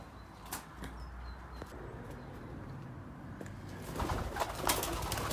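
A pigeon coos faintly and then flaps off in a burst of wing beats inside an abandoned asylum building, the flutter loudest near the end, with no talk.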